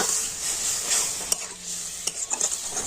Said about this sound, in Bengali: তো সমস্ত মশলাগুলো খুব ভালো করে আমি কষে নেব।